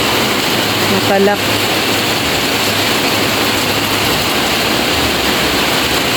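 Heavy daily rain falls steadily on a home in the Philippines, a dense, loud, continuous wash of noise that fills the whole stretch, with a short burst of speech near the start.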